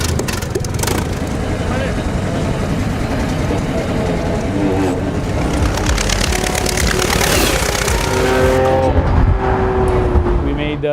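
A vintage car engine fires up on a trembler coil ignition and runs steadily with a loud, continuous rumble, while a person talks over it throughout.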